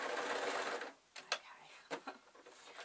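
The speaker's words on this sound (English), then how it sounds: "I'm going to sew an arc over the top of each one" A sewing machine stitching fabric for a spider soft toy runs in a dense, steady whir for about a second, then stops, leaving a few scattered clicks and light handling sounds close by.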